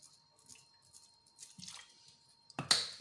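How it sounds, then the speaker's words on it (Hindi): Vinegar is added to a garlic, ginger and green chilli paste, giving faint wet drips and squishy sounds, then a louder liquid splash and pour at the end. The whole thing is close and quiet. "इसके अंदर मैं तकरीबन 2 टेबलस्पून के करीब विनेगर ऐड करूँगी"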